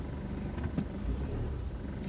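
A 2017 GMC Canyon diesel pickup idles low and steady while backing out of a driveway, a close, even rumble with a faint rise in the middle.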